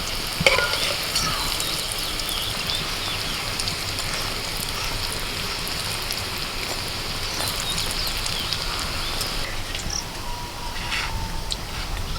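Egg chilla frying in medium-hot oil, a steady close crackling sizzle filling the whole stretch with small spatters and pops, no talking.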